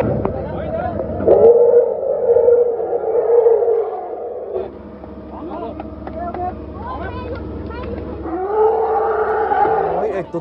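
A one-year-old elephant calf gives repeated low, tonal calls for its unconscious mother at a drain-pipe rescue. Moaning, roar-like cries rise and fall across the clip, loud and close, with crowd noise around them.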